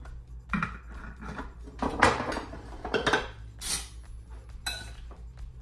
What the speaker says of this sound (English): And then I just want to stir that up.